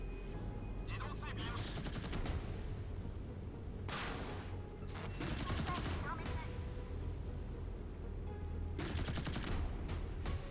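Anti-aircraft gun on a warship in the Modern Warships mobile game fires in several rapid, loud automatic bursts with pauses between them over a steady rumbling battle background, with a voice talking faintly underneath.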